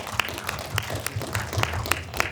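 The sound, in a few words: audience applause after film Q&A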